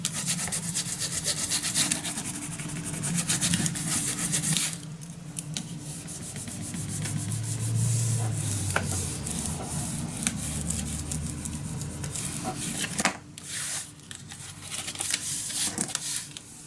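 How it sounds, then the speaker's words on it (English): Paper being burnished flat with a tool on a handmade fantasy mini album gives a steady close scraping rub that runs almost the whole time, pausing briefly near the end. "burnish it down."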